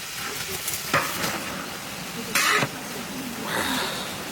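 Cooked rice tipped into a frying pan of fried fish and chicken and stirred, giving a soft steady sizzle broken by a few sharp scraping bursts from the spatula, near and moderately loud.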